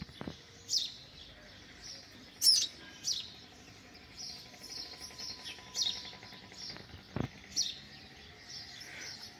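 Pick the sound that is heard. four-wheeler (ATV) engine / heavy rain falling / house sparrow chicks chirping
house sparrow chicks chirping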